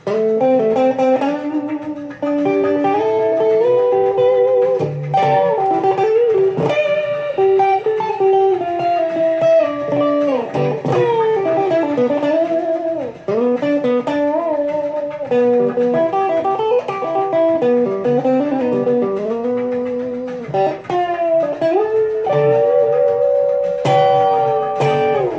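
Electric guitar played through a Boss DS-1X distortion pedal, a loud crunchy tone with sustained notes and riffs running steadily without a break.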